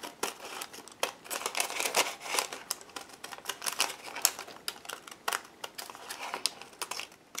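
Scissors snip through fabric for a rose collage, a quick irregular run of sharp, close snips and crisp cuts at a soft level with no talking.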